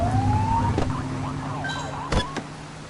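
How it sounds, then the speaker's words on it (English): A police car in the video game The Precinct gives a short siren blip: a rising electronic whoop, then a warbling wail over a steady engine drone, with a couple of sharp clicks toward the end. "Get behind them and blip the siren and make them pull over."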